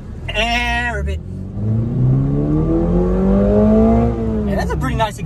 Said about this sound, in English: And that's a pretty nice exhaust for...